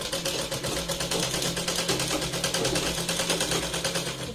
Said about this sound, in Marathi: इथे मी अर्धा इंच आत घेत आता शिलाई लावते